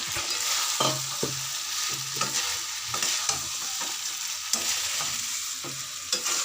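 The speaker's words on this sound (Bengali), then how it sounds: "এর মধ্যে গাঁটি কচু, আলু এবং চিংড়ি মাছ সব একসাথে আমি দিয়ে এবার কষাবো।" Taro, potato and prawns fry with spices in a pan under a constant hiss, while a spatula scrapes through them in a steady rhythm of roughly eight strokes, close and clear.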